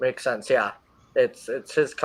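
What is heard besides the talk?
None of the usual background noises is heard.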